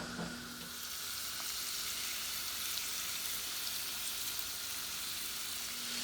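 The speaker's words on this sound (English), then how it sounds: "You can hear everything starting to sizzle." Shrimp with tomato, basil and spinach sizzles steadily in a hot pan, a dense crackling hiss that stays even and continuous throughout, with no voices.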